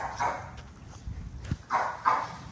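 Several pit bulls bark and yip in play, with a few short, sharp barks spread unevenly across the stretch and a louder pair near the end, fairly close, with no talking.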